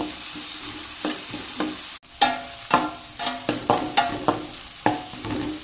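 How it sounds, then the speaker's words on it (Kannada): Ingredients sautéed in a pan until their raw smell cooks off, a steady sizzle broken by repeated scraping stir strokes in an uneven rhythm, close and fairly loud with no talking. "ಹಸಿ ವಾಸನೆ ಹೋಗುವ ತನಕ ಇದನ್ನು ಈ ಥರ ಬಾಡಿಸಿಕೊಂಡ್ರೆ ಆಯಿತು"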